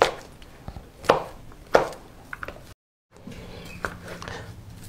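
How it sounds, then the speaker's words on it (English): A knife cuts potatoes on a board for a Turkish potato salad, with a few sharp, separate chops spaced about half a second apart, then a brief pause and some softer, quieter cuts up close. "finishing up cutting up these potatoes"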